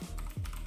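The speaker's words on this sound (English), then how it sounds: "Hit S on the keyboard" Computer keyboard keys pressed during After Effects motion-graphics editing: a few quick, close plastic clicks spaced apart, with no talking.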